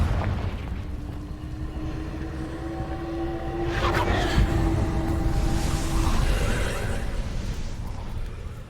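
Confringo blasting spell in Hogwarts Legacy, a deep booming explosion that swells and rumbles for several seconds, with a sustained tonal hum running beneath it and a brief sharp crack in the middle.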